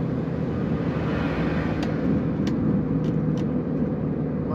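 A car engine on natural gas strains uphill in fourth gear, giving a steady, moderately loud droning hum of engine and road noise with little variation.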